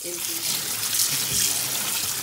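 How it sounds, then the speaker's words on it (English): Tap water running into a kitchen sink and bowl while magnolia petals are washed, a steady close rushing stream with no talk. "now we're going to wash these 3 times in a lot of water to make sure that there's no bugs"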